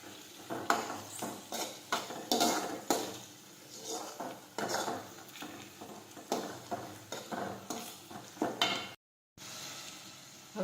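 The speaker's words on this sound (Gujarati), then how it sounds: "હવે આપણે સાતળી લઈશું।" Okra curry (bhindi) sautés in a pan, with repeated scraping and clinking of a spoon against metal over a light sizzle, then a brief silent gap before the stirring resumes.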